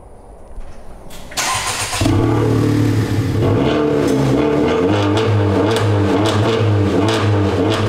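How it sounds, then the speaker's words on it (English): A Honda Civic Type R engine cranks and fires up, then runs with a loud, raspy, nearly straight-piped exhaust note that rises and falls as it revs, close by. "Let's see what it's gonna sound like straight piped."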